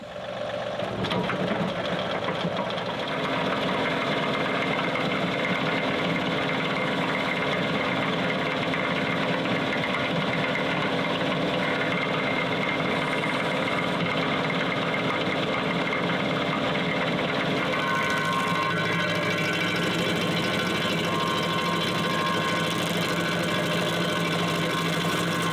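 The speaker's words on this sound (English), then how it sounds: "showing you how to grind stumps with this Baumalight stump grinder" A Baumalight stump grinder on a tractor grinds out a stump, a steady loud mechanical drone with engine hum and whirring teeth running continuously, shifting slightly in tone near the end.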